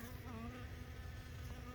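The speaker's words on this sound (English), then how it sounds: "This bee is working really hard early in the morning." A bee buzzes close among kumquat blossoms on a container-grown kumquat plant in the early morning, a faint, continuous hum with slight shifts in pitch.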